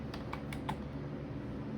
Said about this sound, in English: If I can type more than like two fucking letters per hour